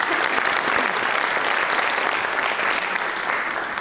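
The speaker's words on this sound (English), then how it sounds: "So again, nice round of applause for everyone that's helped out this year." An audience at a high school varsity jacket night gives a sustained round of applause for volunteers, a dense, even wash of many hands clapping that holds steady and tapers slightly at the end.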